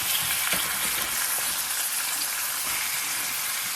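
Beef being stirred as it fries in a pan for kare-kare, a steady close sizzle with soft scraping and stirring movements running throughout.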